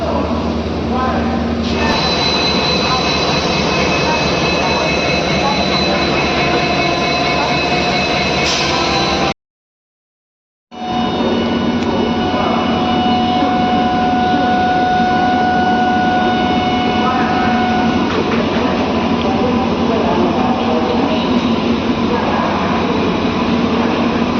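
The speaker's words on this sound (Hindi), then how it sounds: "ये 8 कोचेस वाली जो है, ये 8 कोचेस वाली वंदे भारत है।" An eight-coach Vande Bharat express rushes past a moving train, a loud steady rumble of wheels and rail noise throughout, briefly cut by a short silent gap midway before resuming.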